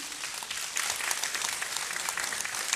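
Studio audience applause on a Turkish TV show on Flash TV, a dense sustained clapping that swells after a brief softer start and holds steady throughout, with no talking over it.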